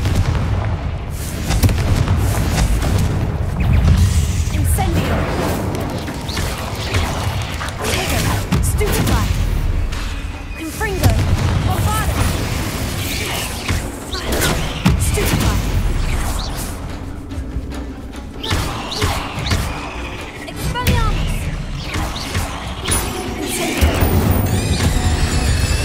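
Fire and blast spells cast over and over in Hogwarts Legacy, loud booming bursts and crackling impacts arriving in rapid succession over a dense, noisy battle din.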